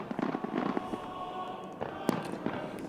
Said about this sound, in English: Somebody's shooting like rockets at us